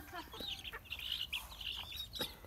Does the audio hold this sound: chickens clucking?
yes